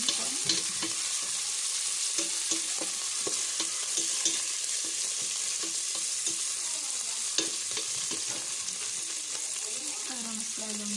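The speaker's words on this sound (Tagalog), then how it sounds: "Igigisa lang yung hipon." Shrimp heads sautéing in a hot pan, a continuous bright sizzle broken by frequent scraping stirs of a utensil against the pan, close and steady throughout.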